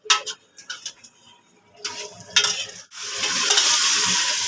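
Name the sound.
keema frying and being stirred in ghee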